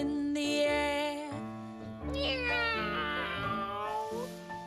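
A voice imitates a cat's meow on a children's show: drawn-out, sliding tonal cries, close and fairly loud, over a backing of steady musical tones.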